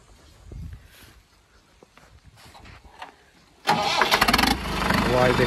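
A Mahindra 575 tractor with a modified turbo engine and pump is heard. After a quieter stretch with speech, the engine cranks and catches abruptly, then settles into a loud, steady idle close to the microphone.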